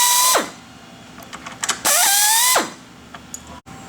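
Screws are backed out of the bottom plate of a Vandersteen Classic Series loudspeaker with a power driver, giving two loud whirring bursts with rising pitch, separated by faint clicks and small handling knocks.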